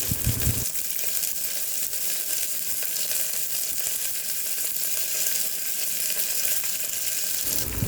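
Five garlic cloves and ten shallots sizzle in a hot pan as they are stirred, a steady loud frying hiss running without pause after a brief scrape at the start.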